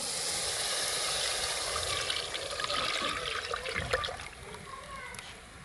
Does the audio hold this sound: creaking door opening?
no